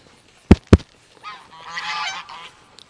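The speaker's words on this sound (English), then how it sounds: "stupid geese" Geese honking in a noisy flurry, preceded by two sharp knocks, the calls rising together for about a second before trailing off.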